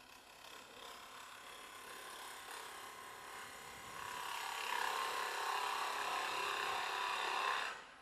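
A wooden bowl spinning on a lathe as a gouge cuts an interrupted undercut, a faint whirring, chattering scrape that grows louder midway and runs steadily before stopping abruptly.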